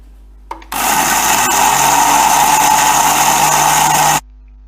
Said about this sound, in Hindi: तमाम मसाला मैंने डाल दिया है ग्राइंडर में और इसे पीस लूँगी मैं और बारीक पीसना है इसे